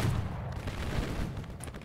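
Muskets fire in a ragged volley during a Civil War video game battle, a burst of overlapping cracks and rumbling reports at moderate distance, with no talking.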